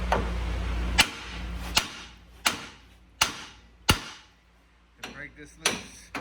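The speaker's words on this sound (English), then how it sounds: "you'll need your 3-pound sledge, and you'll need to hit the knuckle" A 3-pound sledgehammer strikes the steering knuckle of a 2003 Ford F350 4x4, about eight sharp metallic blows spaced roughly a second apart, loud and close, with some quicker clanks near the end.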